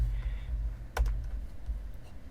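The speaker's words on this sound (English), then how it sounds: "So I start typing in the same again." Quiet clicking of keystrokes on a computer keyboard during serial-terminal setup for Range Rover Classic diagnostics, a short burst of taps near the middle over low background hum.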